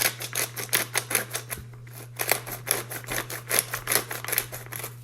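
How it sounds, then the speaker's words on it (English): Black peppercorns being ground in a hand pepper grinder in a kitchen, a rapid series of close, crisp crunching clicks with one brief pause, over a faint steady hum. "I'm going to just grind some pepper into here"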